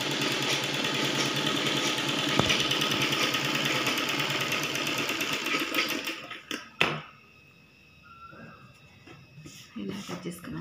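A sewing machine stitches blouse puff sleeves in a steady, rapid mechanical whir that runs for about six seconds, then stops abruptly with a clunk before fainter handling noises.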